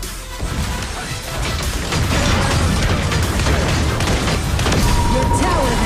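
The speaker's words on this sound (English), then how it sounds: "Your tower has been destroyed." Tower destroyed in Arena of Valor: a heavy booming explosion with crashing, crumbling debris and rapid bursts, swelling into a loud sustained roar amid chaotic battle effects.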